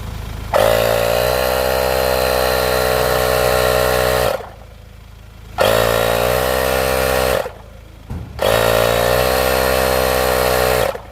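A portable electric tire inflator pumps air into a car tire toward about 34 to 36 psi. It drones loudly and steadily in three long runs separated by short pauses, with a strong buzzing hum.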